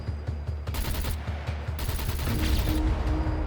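Rapid gunfire from SCUM rattles in close, loud bursts, with sustained automatic fire stacking up over the second half and no voices.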